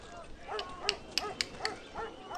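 A dog unit in the strategy game Civilization IV gives a quick series of soft, high yips and barks, fairly faint and irregularly spaced.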